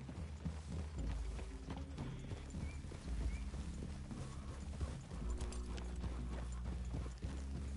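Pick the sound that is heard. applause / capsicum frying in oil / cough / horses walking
horses walking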